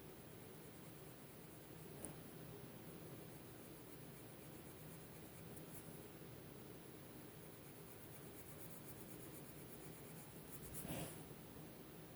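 Caran d'Ache Luminance colored pencil scratching steadily across paper, a quiet continuous rustling scribble at close range with a couple of brief sharper strokes, no talking.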